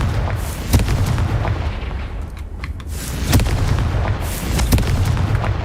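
Confringo fire spell blasts in Hogwarts Legacy go off as several loud, close explosive booms with sharp cracks at irregular intervals over heavy rumbling combat noise.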